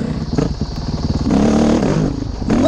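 KTM 350 EXC-F dirt bike engine on a trail, revving in rapid pulsing bursts that rise and fall, loud and close with some clattering.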